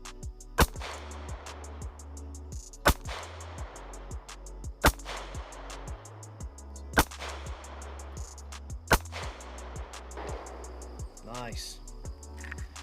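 A SIG 365XL pistol fires six sharp, loud single shots at spaced intervals, each with a quick echoing decay, over a steady background hum.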